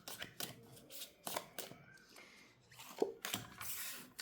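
Tarot cards are drawn and laid out in quick soft shuffles and papery slaps, faint and close, with a few taps on a surface as someone talks.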